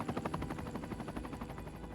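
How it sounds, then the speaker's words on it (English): Rapid rhythmic chopping of helicopter rotor blades in the video game Cities: Skylines II, faint and steady, pulsing several times a second throughout. "And hearing a helicopter."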